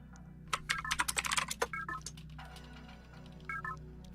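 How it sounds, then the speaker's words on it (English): Rapid, close clatter of keys on a mechanical computer keyboard comes in a dense burst of typing, then pauses before a few more keystrokes and short electronic beeps. "I was just able to hear your whole keyboard right there, Borgmo"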